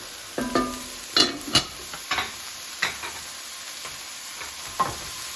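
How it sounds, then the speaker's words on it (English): Tomato being stirred in a frying pan for a tomato chicken rice omelette, with several scraping, clattering utensil strokes at irregular intervals over a steady low sizzle, fairly close, with no talk. "From time to time, check your tomato. Stir it."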